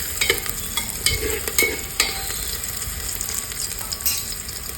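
Onions with cinnamon, cloves and cardamom are stirred as they fry in ghee for ghee rice, giving a steady sizzle broken by several sharp scraping strokes of the spoon against the pan, close up with no talking.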